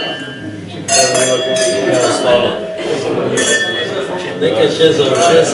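Glasses of Ptuj wine clink together in a toast at a public debate, several bright chinks scattered through the clip under steady talk and crowd murmur.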